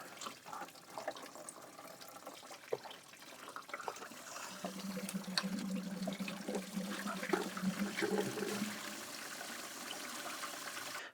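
Water flushing through the coolant system of a 2011-2015 Mini Cooper S, a faint trickle at first building into a steady rushing flow with a low gurgling hum, continuing to the end.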